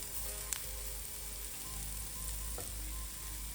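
Garlic sautéing in a pan for a soya masala, giving a steady, close frying sizzle throughout with a couple of faint stirring clicks.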